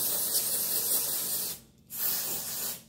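Plump for Joy dry shampoo spraying onto hair in two loud, close hissing bursts separated by a short pause.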